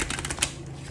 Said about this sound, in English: I'm going to shuffle your cards on camera.